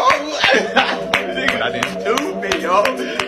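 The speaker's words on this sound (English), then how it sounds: "Did you just clap?" Sharp hand claps from a cartoon character ring out in a quick, uneven series, mixed with lively voices talking and chuckling over them.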